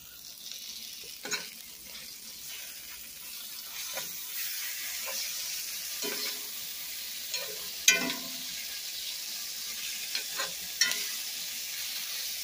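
Shrimp and steak burrito filling with ginger cooks in a pan, a soft steady sizzle broken by scattered scraping stirs and clinks, plus a few brief splashy sounds of water in a sink.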